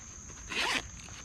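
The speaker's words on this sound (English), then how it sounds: "Inside the lid, you have a zipper," A zipper on the lid of a Savotta Jääkäri M backpack is drawn in one quick, close pull of about a quarter second, alone against a quiet room.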